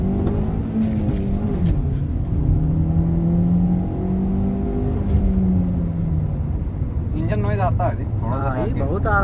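A Hyundai Venue with a 1200 cc four-cylinder engine accelerates on a test drive, giving a steady, loud engine drone with a shifting pitch under road noise, and a voice talks near the end.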